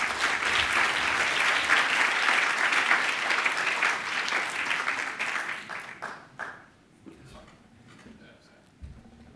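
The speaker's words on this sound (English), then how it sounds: "let's give a big hand of applause to Andy" Audience applause at a tribute event honoring a company chairman, a dense, sustained round of clapping for about six seconds that then thins out to scattered claps and quiet.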